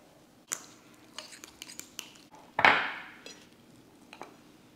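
Nutella stirred together with Kiri cheese in a bowl: a spoon scrapes and clinks against the bowl in scattered light taps, then one longer, louder smearing scrape midway before quieter clicks return.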